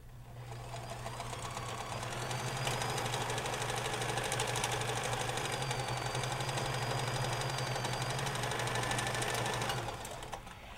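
A sewing machine stitches a mitten cuff, running as one continuous close, loud, fast mechanical whir with a steady low hum for about nine seconds before stopping, with no talk.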